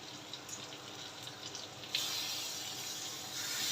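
Water is poured into mixer-ground masala paste while stuffed okra cooks. A soft hiss turns into a steady, fairly quiet splashing stream about halfway through.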